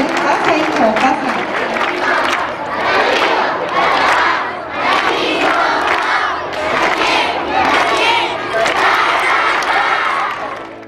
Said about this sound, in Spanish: Un aplauso muy, muy fuerte para Daniel.